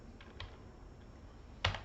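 Computer keyboard keys tapped in a few sparse, quiet clicks, with one sharper keystroke near the end, over a faint room hiss and no talking.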